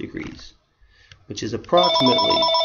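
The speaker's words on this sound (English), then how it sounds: "that's my phone" A telephone rings with steady repeating electronic tones that come in loudly after a man's speech, over an indoor math lesson on an ambiguous-case triangle problem.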